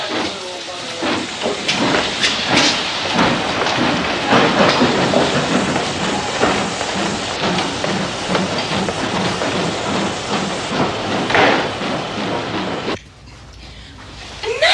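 A passenger train with third-class carriages pulls away. A loud, steady rumble with rhythmic clatter and hiss runs continuously, then drops off sharply near the end.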